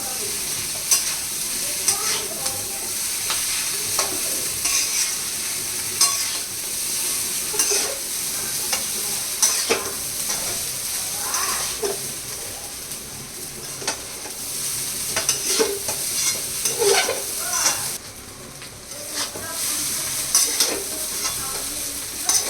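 Egg chow mein sizzles in a hot pan while being stirred, with a constant loud frying hiss and repeated scraping strokes of the utensil throughout.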